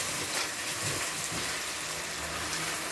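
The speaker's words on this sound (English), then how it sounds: "You can see now it's actually frying." Rice cooked in olive oil with aloe vera frying in a pan, a steady close hiss and sizzle with a soft low bubbling beneath, continuous and even throughout.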